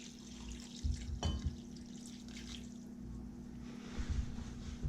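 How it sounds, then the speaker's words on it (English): Kakejiro broth is poured over rice in an iron pot, making a faint, soft liquid splash and trickle with low hum in the background. "Now we're going to pour the Kakejiro over the mixture."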